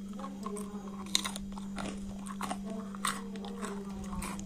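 Crunchy bites and chewing of crisp fried bhakarwadi snack up close, with several sharp cracks over a steady low hum.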